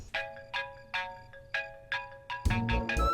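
A phone ringtone chimes in repeated short bursts about every half second, growing louder and busier at the end, with no talking.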